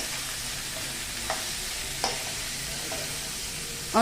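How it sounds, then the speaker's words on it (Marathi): Mixed vegetables for a Bhogi vegetable curry stirred in a pan, a steady close frying hiss with a few faint scrapes of the spoon, no one talking. "हे छान हलवून घ्यायचं।"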